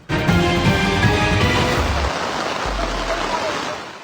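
Heavy rain pours over Lower Calyagdao in Tabuk City, Kalinga, during flooding in northern Luzon, a dense, steady roaring hiss that fills the whole stretch with low rumbling underneath and no clear voices.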